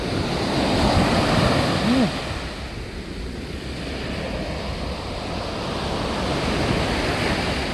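Strong ocean waves break and wash in steadily at Wonpo beach on Korea's east coast in Yangyang, a broad continuous surf roar mixed with gusty wind buffeting the microphone.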